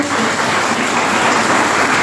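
An audience at a formal welcome ceremony for guests bursts into dense, loud applause, a steady close wash of many hands clapping with no break.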